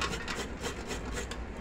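Rhythmic hand rubbing of a rough surface with a scouring pad, quick repeated rasping strokes about five per second, close and fairly quiet.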